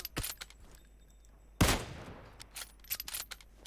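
Gunfire rings out in the battle-royale game PUBG Mobile on the Erangel map, with a sharp single shot, then a louder burst and a scatter of quicker shots.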